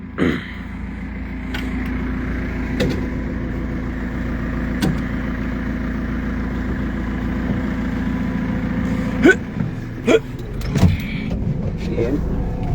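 A JCB farm vehicle on Cannon Hall Farm rumbles steadily with its engine running throughout the ride, a loud close drone broken by a few knocks and clunks, with occasional voices underneath.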